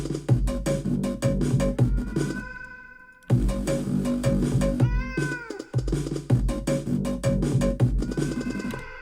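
A cat meows repeatedly, loud and close, over a steady thumping electronic beat with a brief pause partway through.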